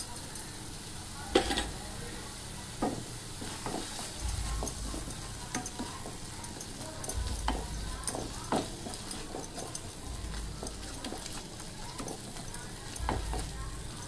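Corn masala with garam masala, chilli powder and salt fries in a pan with a soft continuous sizzle, broken by repeated scraping and tapping stirring strokes at an uneven rhythm, close and moderately quiet, with no talking.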